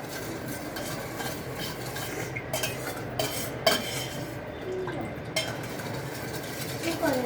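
A spoon stirs sugar into homemade lemonade in a glass, with repeated light clinks and scraping at an uneven rhythm, close by, over a busy background and faint voices.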